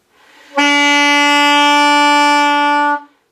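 A single sustained saxophone note, a concert D, rings out clearly and steadily for about two and a half seconds, then stops cleanly; no talking.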